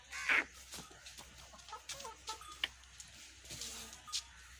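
Aseel roosters and hens, a Mianwali cross, in a village yard: soft scattered clucks and short calls, with one sharper squawk near the start, over low background noise.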